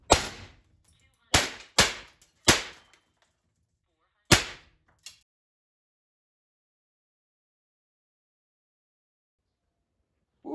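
Five sharp shots from a modified Umarex HDR 68 firing 3/8 steel rounds: one, a pause, three in quick succession, another after a gap, then a faint sixth click, each loud and close with short decays into silence.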